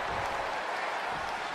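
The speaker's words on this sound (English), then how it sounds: "just listen to this Birmingham crowd as this one gets underway. They're deafening" A deafening Birmingham arena crowd cheers in WWE 2K20 at the start of a Monday Night Raw women's match, a dense, continuous roar of noise with no break.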